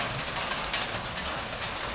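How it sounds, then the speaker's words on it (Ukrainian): Steady rain falling outdoors during a fishing trip on a river, a dense, even hiss of drops on surfaces that fills the whole stretch without pause, with no voices. "я думаю, ще хвилин 10 дощик закінчиться і можна продовжувати риболовлю"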